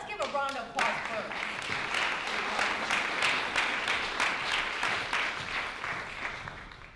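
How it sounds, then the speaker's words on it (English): An audience at a fireside chat bursts into applause, many hands clapping steadily for several seconds, with a voice speaking briefly at the start. "let's give a round of applause first."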